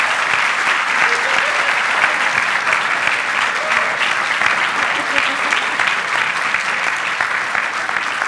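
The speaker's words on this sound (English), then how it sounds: "Please join me in cheering them on for this amazing accomplishment." Audience at a New Hanover County Schools board of education meeting applauding and cheering for state-level cheerleaders, a steady, dense wash of clapping sustained for the whole stretch without a break.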